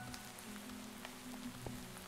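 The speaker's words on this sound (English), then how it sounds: "it's raining on me" Rain falling in Minecraft gives a faint, steady patter with scattered soft drop ticks over a low constant hum, no voices.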